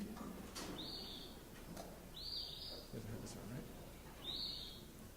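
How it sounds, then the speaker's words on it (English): An Eastern Phoebe repeats its simple two-part song three times at steady intervals, clear and moderately distant, while someone speaks briefly over the first call. "This is a Phoebe, which we have around here"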